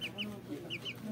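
A chicken clucks softly in short repeated bursts, faint and close, with low background noise and a hint of voices.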